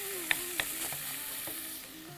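Tomato paste sauce with garlic and harissa simmers in a pan, giving a faint, steady sizzle and bubbling with a few soft pops and clinks, and no voices.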